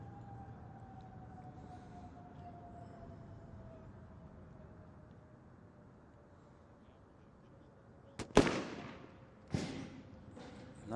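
Sharp sniper-rifle shots at a SWAT team challenge: two loud, abrupt cracks close together, then another crack about a second later, over a steady low hum and a faint drifting tone.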